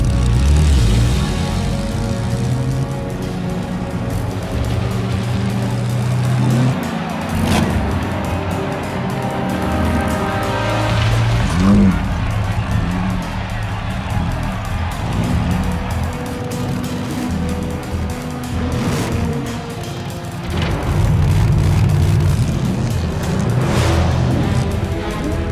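Race car engines idling and revving at the starting grid of a race in The Saboteur video game, a loud continuous roar with swelling revs and occasional louder bursts throughout.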